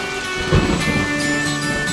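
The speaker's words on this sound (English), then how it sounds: "It is pouring rain all day." Pouring rain hisses loudly and continuously while a low thunder rumble rolls beneath it, close and enveloping.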